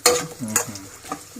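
Cassava chips fry in hot oil with stirring, producing scraping and sizzling bursts in an uneven rhythm, close and fairly loud with no talking.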